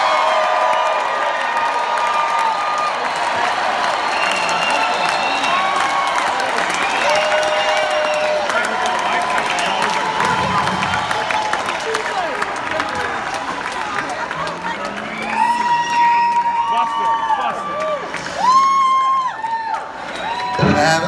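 A concert crowd applauds and cheers for a band, a sustained roar of clapping with whoops and shouts, growing livelier toward the end; voices carry over the noise.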